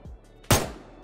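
A single loud, sharp burst of gunfire from a P90 in a first-person shooter video game rings out midway, preceded by soft low rumbles, then decays into a lingering tail.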